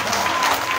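A church congregation applauds and cheers in praise during a French-language worship service, with dense, steady clapping and crowd noise sustained throughout.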